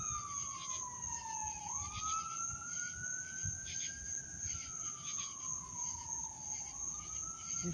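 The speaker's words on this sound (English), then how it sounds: "There's some more sirens down there." A wailing siren rises and falls slowly in the distance, steady beneath a constant chorus of chirping insects.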